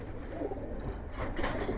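Fancy pigeons kept on a rooftop farm coo steadily and close by, with a soft rolling call that carries through the short stretch.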